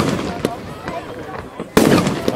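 A 30-shot firework cake going off, sharp cracking bangs popping in a quick irregular rhythm, with one louder burst near the end, close and loud.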